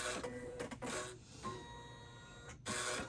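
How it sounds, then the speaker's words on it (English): An embroidery machine makes a short travel step stitch: rapid mechanical stitching bursts and whirring motor sounds, close and moderately loud, broken by brief pauses. "That's just a little travel step so we can get the presser foot up here."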